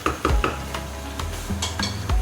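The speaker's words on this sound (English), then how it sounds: "and then you place your lid on." A lid set onto a cooking pot of chicken biryani on medium heat, with close metallic clanks and clinks of cookware, a few distinct knocks spread over a couple of seconds, no talking.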